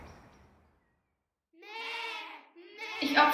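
Sheep bleating in a short skit, two drawn-out wavering bleats heard close and fairly loud after a silent gap, the second stronger and harsher.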